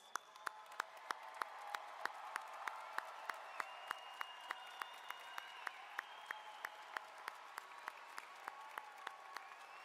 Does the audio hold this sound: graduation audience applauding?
yes